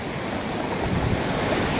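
Ocean water washes onto a concrete beach at Clovelly in Sydney, a continuous close rushing wash of surf with no voices over it.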